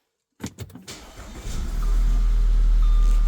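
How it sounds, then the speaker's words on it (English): A 2011 Audi Q5 engine cranks with a few quick starter bursts, then catches and settles into a steady, loud idle close by. "let's go start the car, make sure if this thing even starts"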